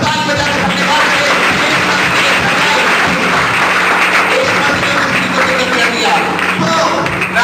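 A church congregation clapping at a worship service, dense and loud, with voices mixed in throughout.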